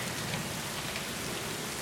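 Rain pouring steadily during a thunderstorm, a loud, dense hiss of drops on surfaces that runs unbroken with no voices.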